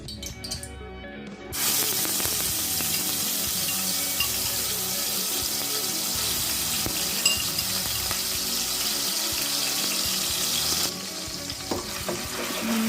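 Sliced onions dropped into hot oil in a pan set off a loud, steady sizzle that runs unbroken for about nine seconds before easing off, with no voices.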